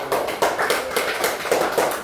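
A group applauds during a teacher-training class session, the clapping coming in steady, rhythmic bursts that fill the room throughout.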